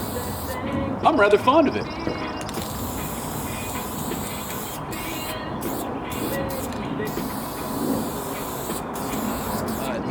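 A Krylon Fusion spray paint can sprays graffiti in a steady hiss, with short bursts that stop and start near the end, under someone talking briefly.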